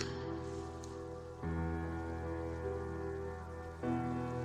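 Steady rain falls softly and continuously, a faint, even patter with a low, warm tonal bed underneath and no voices.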